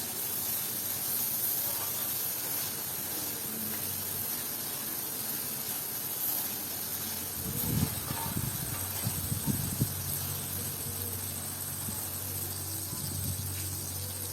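Dry fish gravy, karuvadu kuzhambu, simmering in oil on a stove gives a steady, soft sizzling hiss throughout, with a few faint clinks partway through.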